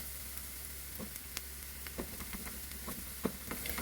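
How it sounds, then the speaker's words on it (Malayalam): Thinly sliced shallots fry in hot oil for a Kerala-style prawn curry, giving a steady, soft sizzle with scattered small pops and a few stirring clicks. "ചെറിയ ഉള്ളി കനം കുറച്ചരിഞ്ഞത് നമുക്ക് ഇതിലേക്ക് ചേർത്ത് നന്നായിട്ട് ഗോൾഡൻ കളറാവുന്നതിൽ ഫ്രൈ ചെയ്തെടുക്കാം."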